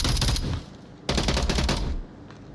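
Rapid automatic gunfire in a competitive video game shooter match, loud bursts of several quick shots, a pause, then another dense burst before fading, with no talking.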